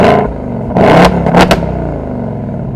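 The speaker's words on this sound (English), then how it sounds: "you can also use it to rev the engine remotely" A 2024 Ford Mustang GT convertible V8 with automatic transmission revved by remote start: two or three loud, sharp blips rise over a steady idle rumble, close by, with no one talking.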